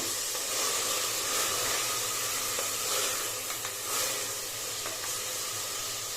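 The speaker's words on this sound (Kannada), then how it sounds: "ಎರಡು ಮೀಡಿಯಮ್ ಸೈಜ್ ಟೊಮೆಟೊನ ಹಾಕ್ಕೊತಾ ಇದ್ದೀನಿ ಹಾಕೊಂಡು ಟೊಮೆಟೊ ಸಾಫ್ಟ್ ಆಗೋದು ಫ್ರೈ ಮಾಡ್ಕೊಳ್ಳಿ" Two medium tomatoes fry in a pan for methi pulao, giving a steady, close sizzling hiss with no talk over it.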